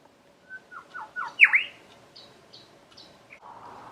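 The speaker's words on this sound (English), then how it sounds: "that's another grey shrike thrush singing its heart out in the tree right outside my front door" A grey shrike thrush sings from a tree right outside a front door: a series of clear rising whistled notes builds to one loud ringing phrase, then shorter, softer calls follow, close by and alone.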